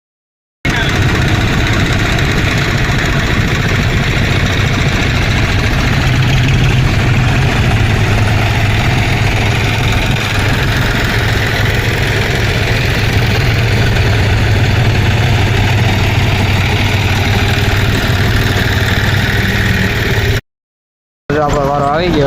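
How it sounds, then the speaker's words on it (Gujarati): A tractor engine idles in a market yard with a steady, loud low rumble and mechanical vibration for about twenty seconds. A brief pause comes near the end before it resumes. "અહીંયા ટ્રેક્ટર રાખી દીધું હે"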